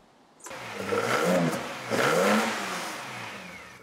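A restored 1972 Nissan Skyline GT-R engine fires up and revs hard twice, each roar swelling then easing back, loud and close with a throaty mid-range growl.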